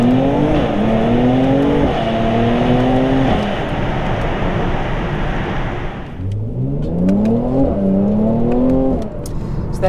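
A Mercedes-AMG C43's modified exhaust revs hard in rising surges, loud and close, dropping off briefly before climbing again.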